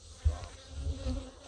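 Angry honey bees buzzing around an open hive during an inspection, a dense insect drone with louder passes as individual bees fly close to the microphone.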